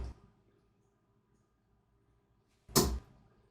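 A single dart strikes a Mission Samurai II bristle dartboard, a sharp, close thud at near three seconds in an otherwise quiet room.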